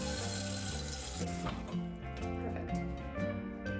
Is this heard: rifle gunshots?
no